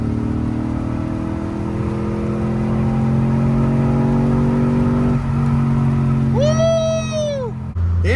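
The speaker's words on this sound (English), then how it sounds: "Full throttle. Full throttle." E85-tuned Chevrolet Tahoe with a cold air intake accelerating at full throttle in second gear, a loud steadily climbing engine roar heard from the cabin, ending in a high whining sweep as it shifts.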